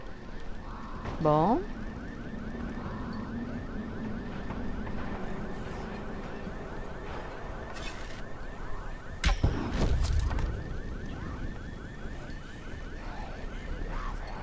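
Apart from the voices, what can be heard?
alarm ringing in video game Dying Light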